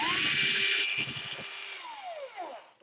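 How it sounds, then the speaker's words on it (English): A small power screwdriver or drill whirs briefly while backing out screws from an Asus G46 laptop during a DC power jack repair, a short high-pitched spin followed by faint falling whines as the motor winds down, close and alone. "Then you want to unscrew those two."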